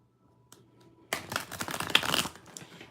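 A tarot deck is split and riffled, a dense burst of fast papery card flutter starting after a quiet second and running close and fairly loud to the end.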